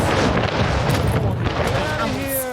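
A ship being destroyed in Anno 1800, rendered as heavy booming explosions with rumbling low end that fade into a tail of debris and tonal game effects.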